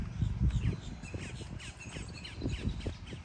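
Crows caw repeatedly outdoors during a Florida nature walk, with other birds calling in the background over steady low rumble and wind.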